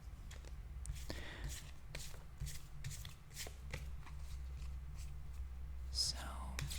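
Tarot cards are shuffled softly and closely in a quiet ASMR setting, with repeated riffling and sliding bursts in a steady rhythm and no speech.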